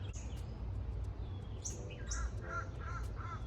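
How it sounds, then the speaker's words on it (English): Several crows caw outdoors at a moderate distance, a few harsh calls in quick succession over soft background ambience. "Listen to the birds."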